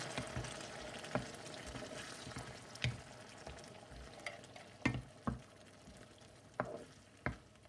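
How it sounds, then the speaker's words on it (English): Tinned tomatoes are stirred into an aubergine curry with softened onions in a pan, producing a soft continuous sizzle with intermittent wet scrapes and utensil knocks, fairly quiet and close. "Stir it a bit."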